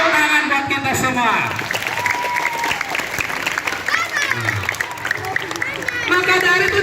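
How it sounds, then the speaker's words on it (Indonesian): Schoolchildren applaud at an elementary school Isra Mi'raj gathering, a steady dense clatter of many small hands filling the whole stretch, with children's voices and chatter mixed in underneath. "Tepuk tangan buat kita semua."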